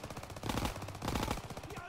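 Rapid automatic gunfire in the World War II shooter Call of Duty WWII, a dense burst of rattling shots filling most of the brief moment, fairly close and busy.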